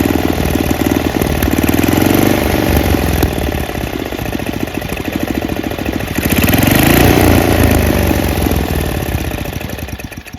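A Craftsman track drive snowblower engine idles loudly and steadily up close, its rough mechanical drone swelling slightly midway as it surges a little, with no talking over it.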